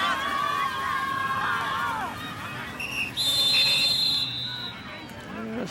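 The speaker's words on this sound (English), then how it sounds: "we got a whistle here" A referee's whistle shrills at a District 11 high school football game involving Mitchell, a sharp piercing blast following an earlier shorter whistle, heard over crowd noise from the stands while a commentator talks.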